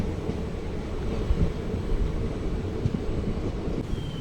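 A hydrogen train idles at a quiet platform with a steady, close, broadband rumble and hum that holds evenly throughout, with no voices.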